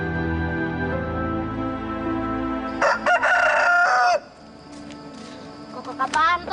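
A rooster crows loudly in one clear, drawn-out cock-a-doodle-doo, followed by a shorter second call, over a background of music.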